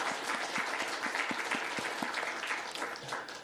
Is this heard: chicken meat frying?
no